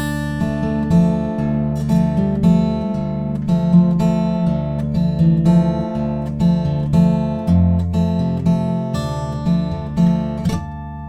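Fingerstyle acoustic guitar plays the closing passage of the Harry Potter theme, steady plucked notes ringing over sustained bass for the full stretch, close and clear, with no voices.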